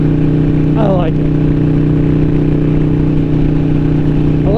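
A Harley-Davidson 883 Iron with an aftermarket exhaust idles at a steady, loud, low rumble throughout, with brief rising whines near the start and end.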